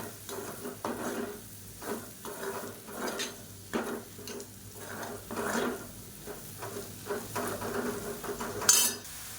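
A spoon stirs crushed garlic and potato pieces frying in a pan for a potato fry, with soft sizzling and repeated scraping and clinking strokes in an uneven rhythm, close and fairly quiet, and nobody speaking.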